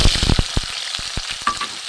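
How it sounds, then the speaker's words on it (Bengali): Onions sizzle steadily in hot white cooking oil, with a few sharp stirring clicks and scrapes against the pan. "সাদা তেল দিয়েছি। পেঁয়াজটা ভাজা হোক"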